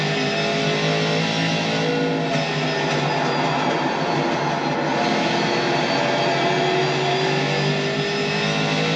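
Race car engines in the iRacing sim game drone steadily at high revs, with a constant loud mechanical whine and no talk.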